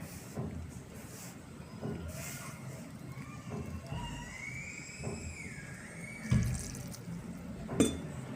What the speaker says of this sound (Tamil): இப்போ லேசாக தண்ணி லேசாக ஊற்றி பண்ணிங்க.